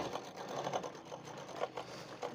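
A sewing machine stitches suit fabric, leaving a little extra cloth at the seams, in quick rhythmic bursts of close, moderately loud whirring and clattering that repeat steadily throughout.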